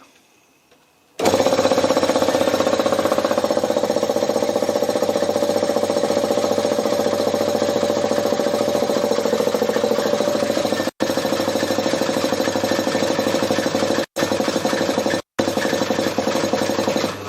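A Briggs & Stratton engine converted into an air compressor runs with a loud, steady, rapid knocking chug that starts abruptly and continues, with three brief dropouts near the end as it nearly stalls under load.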